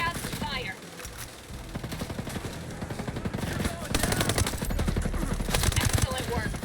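Rapid bursts of automatic gunfire from the video game Ghost Recon Breakpoint rattle on continuously, growing louder and denser toward the end, with a voice speaking briefly over the shots.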